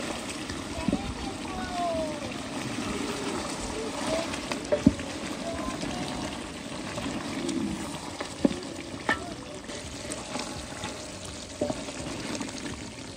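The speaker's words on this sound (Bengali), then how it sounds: "আর এদিকে বাগানে রান্না হচ্ছে আমাদের মাংসটা, পাক্কি বিরিয়ানির মাংস পাকানো হচ্ছে।" Meat for pakki biryani cooks in a large pot outdoors in a garden, giving a steady bubbling sizzle with occasional scrapes and clinks under people talking.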